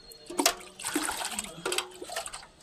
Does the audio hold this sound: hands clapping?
no